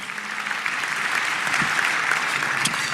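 Audience applause during a county government State of the County address, steady and dense clapping from a crowd throughout, moderately close.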